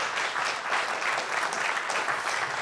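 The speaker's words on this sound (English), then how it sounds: "Can I get a round of applause, please?" A conference session audience claps steadily and loudly throughout, a dense wash of applause with no pauses.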